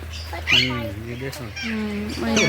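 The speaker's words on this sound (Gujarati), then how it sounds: "આફ્રિકન ગ્રે પેરટ છે અહીંયા ઉપર રહ્યા" An African grey parrot calls with short squawks and whistly chatter among caged parrots in a bird shop, close by and mixed with nearby human voices.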